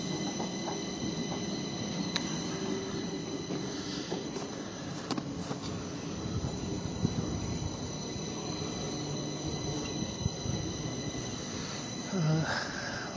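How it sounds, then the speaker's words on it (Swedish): A Stockholm metro train pulling into Vällingby station on a snowy winter morning, a continuous rumble of wheels and carriages with faint metallic squeals and clicks, heard from the platform area. "Första tågen som ska köra in på Vällingby station."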